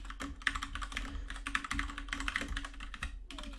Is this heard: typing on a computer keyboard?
yes